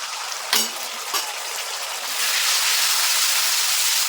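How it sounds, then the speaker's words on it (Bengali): Ginger, green chili and tomato paste frying in a pan, a loud continuous close hiss and sizzle with a couple of brief knocks early on, the sizzle swelling stronger halfway through, no voices. "আদা কাঁচা লঙ্কা টমেটোটা একটু ভাজা ভাজা করে নিয়েছি"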